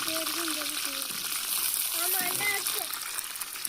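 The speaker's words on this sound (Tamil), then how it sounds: "கருவேப்பிலை போட்டாச்சு. இன்னும் கொஞ்சம் கருவேப்பிலை" Fresh curry leaves drop into hot oil for a snake gourd stir-fry and set off a steady, hissing sizzle. Someone talks over it at close range.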